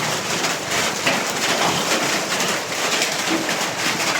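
Steady, loud rain falling during a night in a deserted town in Mindanao, a dense continuous hiss close to the microphone with no talk.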